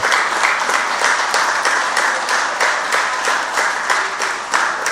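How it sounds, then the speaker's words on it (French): Church congregation applauding in worship, a dense steady wash of many hands clapping with slightly pulsing rhythm, loud and close throughout, with no clear talk over it. "Applaudis le Saint-Esprit donc."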